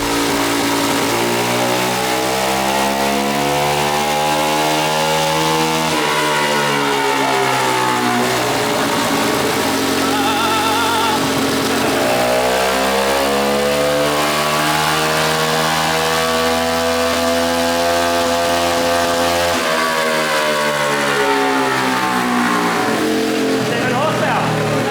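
A 125cc turbo go-kart engine runs naturally aspirated on a dyno, with an intercooler pipe removed. It revs up in loud, close sweeps that rise, fall and rise again, a droning mechanical whine throughout.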